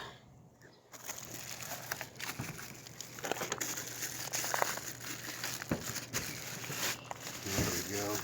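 Crinkling and rustling as plastic packaging is peeled off a Savard hiQ 12 inch subwoofer, coming in close, uneven bursts, with a voice talking intermittently over it.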